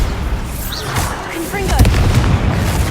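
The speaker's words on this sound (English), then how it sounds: "Bombard." Bombarda spell blast in Hogwarts Legacy, a burst of booming explosion noise with crackling debris over a steady game backdrop, followed by lingering rumble.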